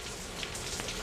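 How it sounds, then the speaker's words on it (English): Steady rain falls at night in Dhaka, a dense even hiss of drops on surfaces, close and unbroken with no voices. "It's raining, obviously."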